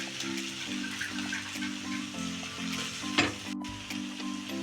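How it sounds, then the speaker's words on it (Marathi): Finely chopped potatoes sizzle and are stirred in a hot pan for a Maharashtrian potato bhaji, with a steady crackling hiss, occasional scrapes of the spoon and a low hum in the background. "बटाटा चांगला परतून घ्यायचा आहे."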